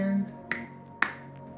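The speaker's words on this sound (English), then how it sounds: "If you're happy and you know it, clap your hands" Two sharp hand claps along to a children's song, evenly spaced about half a second apart, close and crisp, with a held sung note fading out just before them.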